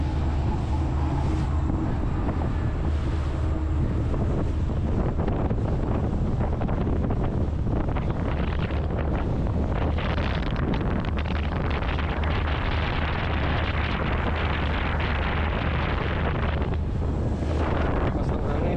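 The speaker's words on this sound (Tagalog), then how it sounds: "Lakas ng hangin." Strong wind at sea buffets the microphone in a boat, a loud continuous roaring rumble with gusty surges, water wash underneath and occasional voices.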